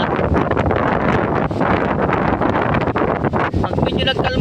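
Strong habagat monsoon wind at sea blowing loud and steady across the microphone, a constant dense roar with gusty flutter throughout, near and unbroken, with a boat's rustle underneath during a spearfishing trip in the Philippines.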